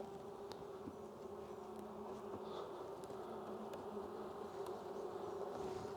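Steady droning hum of many honey bees buzzing continuously at close range in a hive's honey super, a low even drone with faint higher whines drifting over it.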